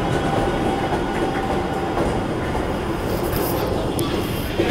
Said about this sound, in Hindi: तो गाइस मेरी ट्रेन आ गई है